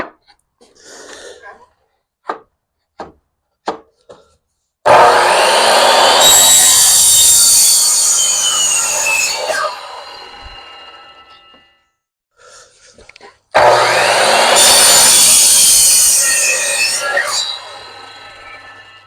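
A power saw cuts through pallet wood pieces for bird houses in a home garage, two loud whining cuts of several seconds each, preceded by a few sharp knocks and clicks.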